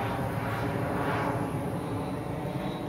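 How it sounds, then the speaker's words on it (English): A fixed-wing airplane passing over a South Florida sunset sky, a steady broad engine drone with a faint high whine, distant and moderately quiet throughout. "Hello, aeroplane."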